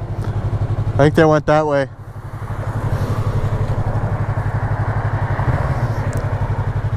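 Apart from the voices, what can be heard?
motorcycle passing by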